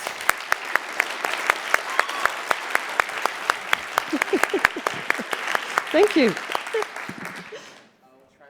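Audience applause at an education conference open-mic battle, with sharp individual claps standing out over a dense crowd wash, voices speaking briefly over it before it fades out to near silence.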